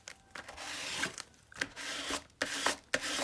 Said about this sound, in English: Give that a good rubbing.